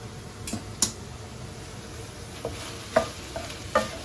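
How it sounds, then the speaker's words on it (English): Pasta is stirred in a pan where veal sausage meat is browning: a soft steady sizzle with several sharp scrapes and clicks of the utensil against the pan. "Let me just move my pasta around, make sure nothing's sticking."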